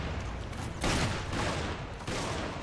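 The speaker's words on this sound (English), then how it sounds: "Headshot with the shotgun." Gunfire from a shotgun in the Resident Evil 5 video game, with loud repeated blasts and a dense, booming sustain filling the short stretch, and no voices over it.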